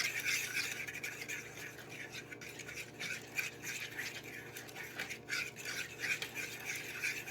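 Caesar salad dressing of Dijon, garlic and egg is blended, giving a continuous fast whirring with bright, scraping texture that wavers in loudness throughout, close and without talk.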